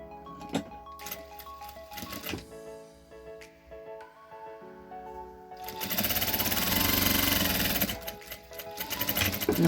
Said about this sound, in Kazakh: Былай етіп машинкада тігеміз.